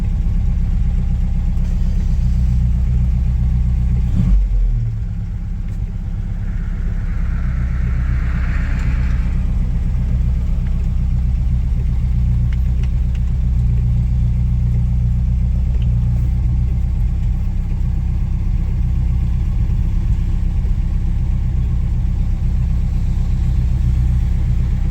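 A 1960 MGA Coupe engine idles while waiting at a traffic light, a steady, loud low rumble from inside the car that holds an even tone throughout, with a faint brief mechanical sound partway through.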